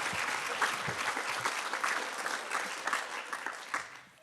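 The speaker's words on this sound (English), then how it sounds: "Let's give them a round of applause" Soft audience applause at a community foundation's annual dinner meeting, a diffuse crowd clapping steadily from a distance with scattered louder claps, tapering toward the end.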